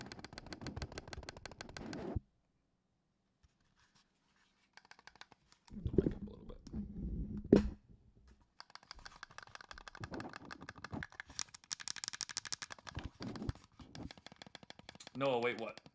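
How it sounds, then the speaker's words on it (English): A custom Xbox controller's mouse-click buttons are pressed in rapid bursts of sharp, close clicks, separated by brief silent pauses, fairly quiet overall. "you guys want to hear mouse clicks?"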